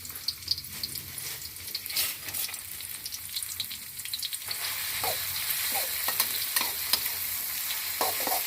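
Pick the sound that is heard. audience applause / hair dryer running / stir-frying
stir-frying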